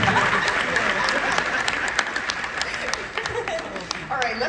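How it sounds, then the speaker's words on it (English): An audience applauds at a convention opening ceremony, the clapping lively and steady with laughter and voices mixed into it, and louder claps standing out near the end. "Let's clap for that."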